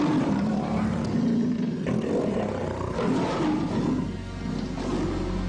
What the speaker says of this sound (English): Their collective roar so loud it silenced the crowd.